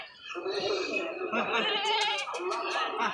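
Goats at a village goat market bleating loudly and close, several wavering cries over a couple of seconds while people talk nearby.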